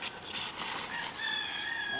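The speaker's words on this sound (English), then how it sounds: "You're done washing the rooster, PJ?" A rooster clucks and crows softly while being bathed with soapy water, its calls moderately faint and continuous over a steady background of splashing and handling noise.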